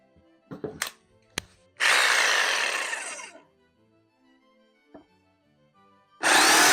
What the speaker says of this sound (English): Now I'm just going to use my jigsaw,